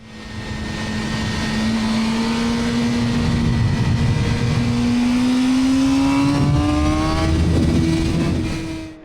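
A Suzuki GSX-R600 sport motorcycle engine drones loud and close from the rider's seat, its pitch rising and falling steadily as the bike accelerates and slows along winding switchbacks, with strong wind rush underneath.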